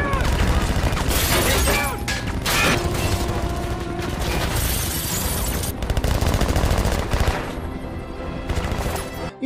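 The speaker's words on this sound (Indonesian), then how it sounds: "Pesawat tanpa awak dan helikopter yang membawa pasukan langsung menghujani mereka dengan tembakan." Film battle scene with gunfire raining down from drones and troop-carrying helicopters: dense, continuous bursts of automatic shots and booms, loud and close throughout, with mechanical clatter and shattering mixed in.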